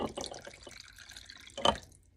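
Leftover Thanksgiving turkey broth pours from a pot into canning jars, a close liquid splash and trickle that thins to drips, then ends in a brief louder slosh.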